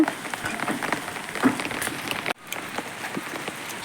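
Heavy storm rain patters densely on surfaces outdoors during a spring storm, a steady close crackling hiss with scattered louder drops, briefly cutting out partway through before resuming.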